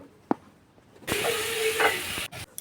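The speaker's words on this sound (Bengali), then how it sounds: "সব মশলাগুলো ভালো করে কষিয়ে নেব" Ground spices with salt and a coriander and cumin paste sautéed in a pan for a yogurt chicken curry: a single knock, then about a second of loud hissing sizzle that cuts off, followed by a few soft clatters.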